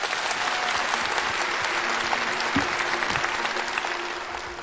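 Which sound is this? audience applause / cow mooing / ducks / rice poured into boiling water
audience applause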